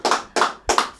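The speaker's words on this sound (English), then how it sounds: "I didn't expect a round of applause there." Three separate bursts of hand clapping from two people in a podcast studio, each burst a short, sharp, close flurry with clear pauses between.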